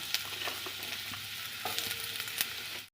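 Bottle gourd hitting hot mustard oil in a pan gives a steady close crackling sizzle, with scattered sharper pops and a few scraping stirs, no voices over it.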